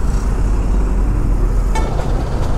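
Steady low road traffic rumble from passing cars and heavier vehicles, continuous and fairly loud throughout, with a brief brighter swell of a nearer vehicle toward the end.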